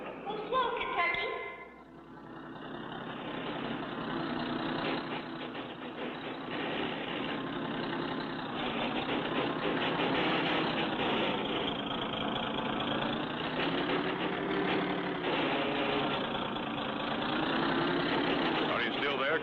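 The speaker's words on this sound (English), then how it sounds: "That car will pull us right up." A cartoon car engine runs steadily as it pulls a rope, a continuous droning hum that keeps going under voices talking throughout.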